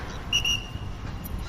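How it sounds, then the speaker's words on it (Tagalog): A short, sharp whistle is blown twice in quick succession to call a free-flying African grey parrot outdoors, clear and fairly close, over a low rumble of wind and background noise. "Pito."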